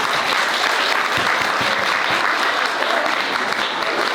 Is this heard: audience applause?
yes